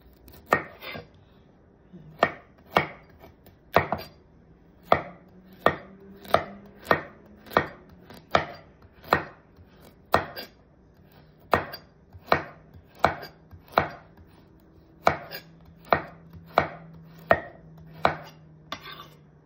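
A knife chops carrots on a cutting board for a cucumber salad, giving a steady series of about two dozen crisp, evenly spaced knocks, close and clear with no talking.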